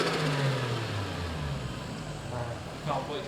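A Toyota 1JZ engine fitted with an air filter revs in a car, its pitch sweeping up and falling back in a few swells against a constant mechanical drone.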